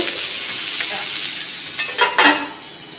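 Onion and bell pepper sizzle and crackle on a grill pan while being flipped, a steady close frying hiss with a few louder bursts of spatter and stirring near the end, no voices.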